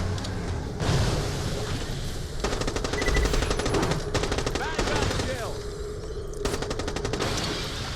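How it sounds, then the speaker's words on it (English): Rapid automatic gunfire from freeze-element guns in the shooter game Borderlands The Pre-Sequel, loud bursts of fire starting and stopping over busy game sound, with a voice talking over it. "I like that these guns freeze the enemies just to stop them from running around for a second"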